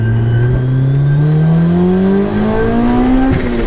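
A supercharged Honda S2000 CR engine pulls hard in second gear, a loud, close, rising howl with supercharger whine that climbs steadily in pitch for several seconds, then drops off at the end.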